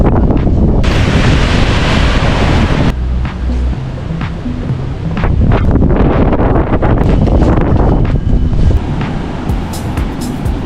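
Strong wind roars and buffets the microphone as a thunderstorm approaches on a hot morning, a loud, continuous rushing rumble with gusts that swell and ease throughout, with no talking.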